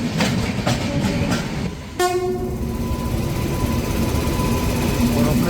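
The Punjab Mail express running with a WAG9 electric locomotive: loud steady rail rumble and rhythmic clatter close by, broken at about two seconds by a long horn blast that sustains over the roar.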